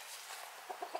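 A backyard hen clucks softly in a few short, quiet calls near the end, set against a steady hiss of outdoor background noise.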